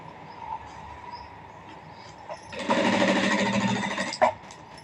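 After a quiet pause, a nearby sewing machine whirs for a short, steady run of rapid stitching along golden thread piping, then halts with a faint click.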